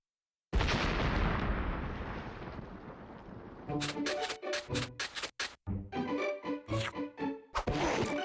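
A single heavy cartoon cannon blast erupts at a sandcastle competition and rolls away, followed by a rapid burst of sharp, popping impacts.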